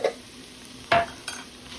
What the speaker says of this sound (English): I am going to take half a teaspoon of my minced garlic. Plop that in there.